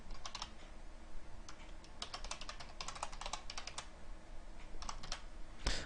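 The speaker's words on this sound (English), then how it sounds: "Let me just type this out." Typing on a computer keyboard while writing code, heard as irregular bursts of close, crisp key clicks with brief pauses between runs, no voices.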